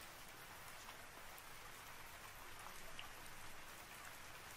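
Rain falls steadily and softly, an even wash of drops hissing on surfaces with no voices, quiet and unbroken from start to finish.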